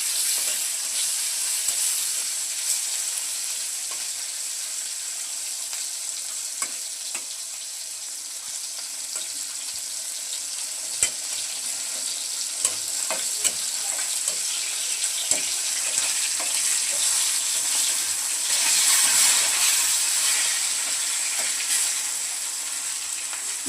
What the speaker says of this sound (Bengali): মাছ ভাজা আর কাঁচা লঙ্কা ভাজা হয়ে গেছে।